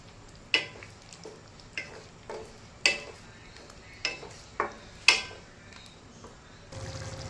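Red chili paste goes into a pan of potato curry as a spoon clanks and scrapes against the pan about eight times in an uneven rhythm, over a light sizzle that swells into a steadier hiss at the end.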